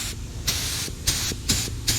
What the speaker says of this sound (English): Now, the more I spray this, the more the design goes away.